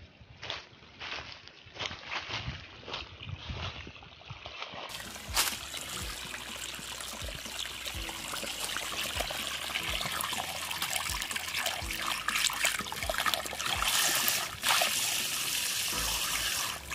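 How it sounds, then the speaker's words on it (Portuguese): Water trickles steadily from a spring source at Serrinha da Prata, a soft continuous flow with faint clicks and splashes, growing slightly fuller and brighter midway, with no talking. "aqui é a nascente. Daqui é que vem a água, a minação da água."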